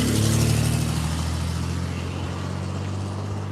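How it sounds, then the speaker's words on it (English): A truck engine running rough and unhealthy, loud and close, with a low steady rumble that holds throughout and a slight swell near the start, and no voices present. "That truck doesn't sound very healthy."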